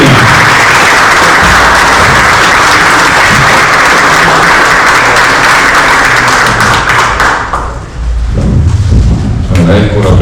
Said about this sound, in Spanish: dennos un caluroso aplauso para el padre Carlos Rosel de Almeida